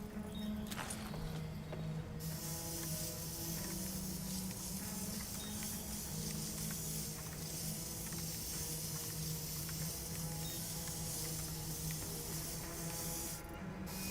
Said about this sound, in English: Apparently it just keeps going.